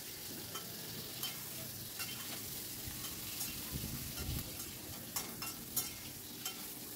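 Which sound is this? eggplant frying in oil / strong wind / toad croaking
eggplant frying in oil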